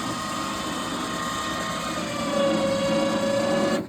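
A Rampage Power Lift ramp winch spools its cable with a steady mechanical whir that rises slightly in pitch and loudness toward the end, close and continuous with no talk.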